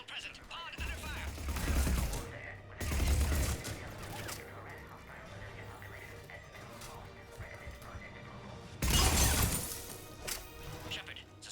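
Gunfire in the Mass Effect video game, with sharp bursts of rapid shots and a shattering crash in three loud clusters, separated by quieter stretches of hum and radio-style voice chatter.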